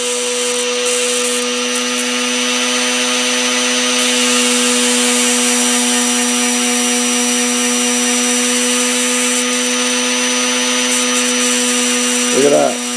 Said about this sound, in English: So look at that spark I'm getting in the end of the wire.